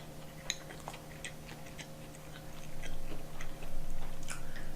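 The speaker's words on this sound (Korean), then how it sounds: "그냥 먹겠습니다. 납작만두 3 개." Someone eating three flat dumplings (napjak mandu) at once, with soft close chewing and biting clicks over a steady low hum, growing a little louder toward the end.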